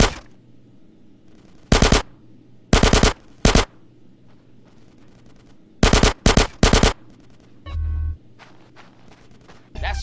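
Video game gunfire in a GTA San Andreas gang shootout: loud, close bursts of rapid automatic fire in several separate volleys, with short quiet gaps and a brief low thump between them.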